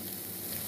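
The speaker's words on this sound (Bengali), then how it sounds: "এবারে দেখুন কুচানো কিছু পেঁয়াজ দিয়ে দিলাম" Chopped onions hitting hot oil in a pan, a dense, even sizzle that fills the brief moment, close and fairly quiet with no talking.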